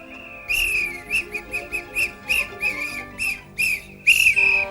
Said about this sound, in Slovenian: Ampak vsi niso bili zadovoljni s Frančkovo piščalko